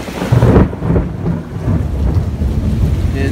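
Thunder rolls through a heavy rainstorm, with a loud rumble up front that fades into continuous dense rain hiss.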